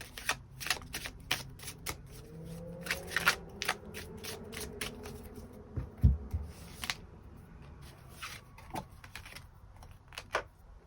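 Tarot cards being shuffled and drawn, with rapid close riffling snaps in bursts and occasional single card taps, fairly quiet with brief pauses.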